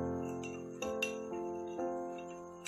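A metal spoon clinks against the side of a bowl as salt is stirred into water, giving several light, ringing taps at uneven intervals, quiet and close, with no talking.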